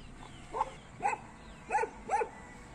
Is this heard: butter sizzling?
no